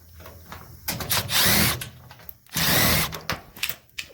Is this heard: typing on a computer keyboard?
no